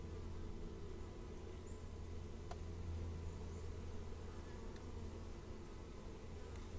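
Honeybees swarming an open beehive during a hive check, a dense continuous buzz of many insects filling the air at close range, with no talk.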